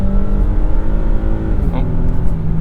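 A 2022 Nissan Frontier pickup's engine revs hard toward its 7,000 RPM redline, the loud strained whine climbing in pitch, with a shift and a voice talking over it.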